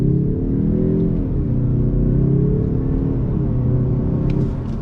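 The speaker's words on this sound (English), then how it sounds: "we're going to do another on throttle start from a dead stop" A 2021 Mazda 3 Turbo with all-wheel drive pulls away from a dead stop in first gear, its engine droning and climbing steadily in pitch, loud and close over a constant low rumble.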